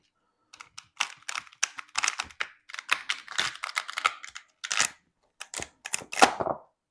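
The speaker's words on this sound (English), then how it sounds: "this big thick stalk down here at the bottom. Let's see how it's going to cut for us." A Dalstrong Quantum 1 cleaver chops through a big thick vegetable stalk, a series of sharp, close crunching cracks and clicks in an irregular rhythm with brief pauses, no voices.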